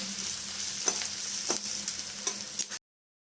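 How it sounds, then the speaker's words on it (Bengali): Chopped onions fry in hot oil for a prawn, potato and cauliflower curry, a steady close sizzle with a few brief stirring clicks, ending abruptly. "পেঁয়াজগুলো একটু হালকা লাল করে ভেজে নেব"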